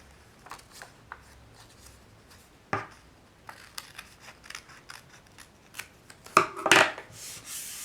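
Scissors snip away excess fabric around a sewn plush ear, with soft intermittent cuts and rustling that end in a louder cluster of close snips.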